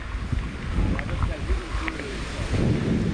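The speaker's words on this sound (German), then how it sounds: "es ist echt arg windig" Strong wind buffets the microphone with low rumbling gusts at an enduro motorcycle ride, while voices murmur faintly underneath.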